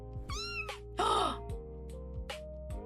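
A cat meows several times in short, close calls, one longer and louder than the rest, with quiet gaps and a faint tonal background between them.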